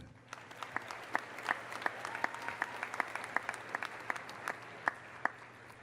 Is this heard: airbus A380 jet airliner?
no